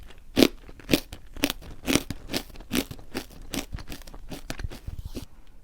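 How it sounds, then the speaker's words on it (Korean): A light, crunchy grain and onion flavored snack is chewed close up, giving about a dozen crisp, evenly spaced crunches in a steady rhythm, alone without talk. "씹는 소리를 한 번만 더 들려드릴게요."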